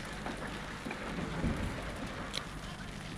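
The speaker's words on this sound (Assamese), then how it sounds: "এতিয়া বৰষুণ দি আছে।" Steady rain falls in a flower garden in the evening, a continuous close hiss of drops pattering on surfaces and leaves with no talk over it.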